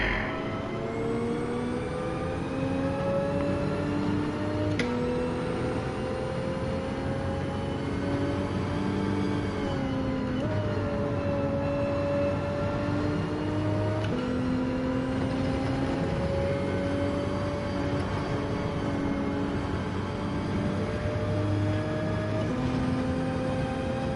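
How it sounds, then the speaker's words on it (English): A race car engine in Gran Turismo 7 runs hard near redline, its steady high drone repeatedly bouncing off the rev limiter with brief dips as gears shift, loud and continuous during an online Nations Cup race. "I keep popping the rev limiter on it."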